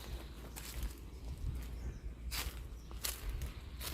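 Footsteps of someone walking around a lake: a few separate crunchy steps scattered over a quiet outdoor background, with no talking.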